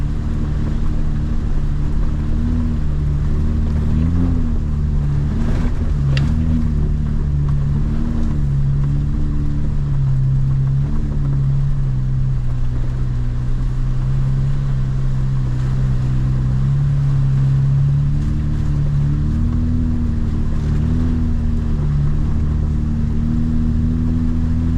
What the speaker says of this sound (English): We are basically just driving through the pond.